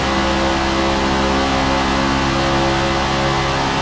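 A NASCAR Camaro racing at Daytona in Forza Motorsport, its engine holding a loud, steady drone throughout with a constant mid-pitched hum and no voices.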